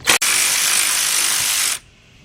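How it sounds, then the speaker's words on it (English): A 3/8-drive ratchet with a 10mm shallow socket spins out a radiator fan bolt on a 2005 Kia Amanti 3.5, giving one loud, steady buzzing whir after a short start, close by, then stopping abruptly. "take your 10mm shallow socket, 3/8 drive with your 3/8 drive ratchet, and we're going to go ahead and remove all 3 bolts"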